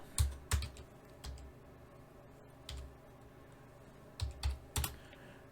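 Keys clatter on a computer keyboard while text is entered in Notepad on Windows, with short bursts of close, quiet clicks separated by pauses.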